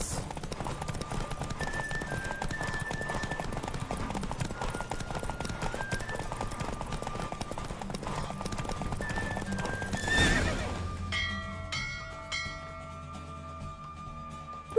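A horse gallops in The Witcher 3, rapid rhythmic hoofbeats under music, with a whinny; the hooves stop near the end as bell-like tones ring out alone.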